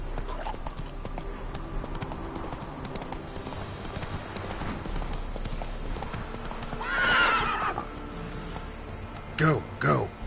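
Roach, a horse in The Witcher 3, gallops in steady clip-clop hoofbeats with a whinny partway through and a few sharp clinks near the end, while a voice speaks over the hooves.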